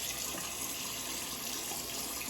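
Tap water runs steadily into a sink while hands are wetted, a constant close splashing rush with no talk.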